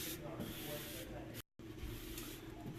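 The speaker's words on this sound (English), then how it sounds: "a little more application fluid. Another squeegeeing." A squeegee swept over vinyl on glass wet with application fluid, a steady close rubbing hiss in long strokes broken by one brief pause.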